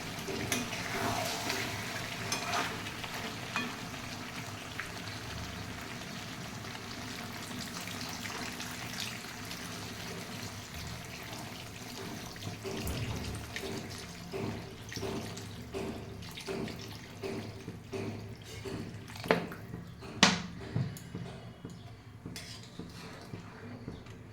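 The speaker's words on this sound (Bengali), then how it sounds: "এর মধ্যে আমি জল দিয়ে দেবো" Water is poured into a simmering dhaba-style chicken curry, giving a soft continuous splashing and running-water sound with occasional clinks of pots and utensils nearby, ending in a sharper metallic knock.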